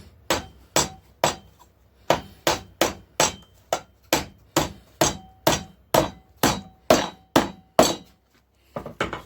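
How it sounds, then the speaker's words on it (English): Repeated sharp hammer blows strike reclaimed wood planks in a steady rhythm, about twenty hits, close and crisp with short pauses between. "And you can hammer it on down."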